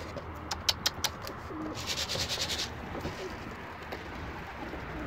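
A pigeon coos from a rooftop coop. Soft repeated calls mix with quick clicks over steady outdoor background noise, and no one speaks.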